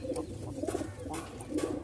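Low, repeated cooing from Giribaz pigeons close by, soft throaty calls rising and falling over a faint background hum.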